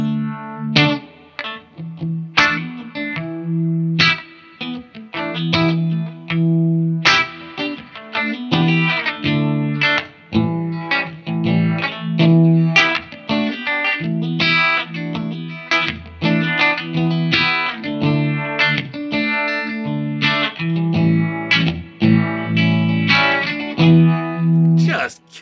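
An electric guitar is played through a SolidGold FX Aurras optical Univibe pedal, giving warm, pulsing, swirling chords and riffs with mild distortion and a steady rhythm, with no talking.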